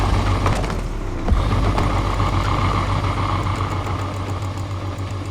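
Maybach S680 exhaust in the video game Need for Speed Unbound, a steady deep idling rumble with a low throbbing pulse, close and loud, and a brief blip about a second in.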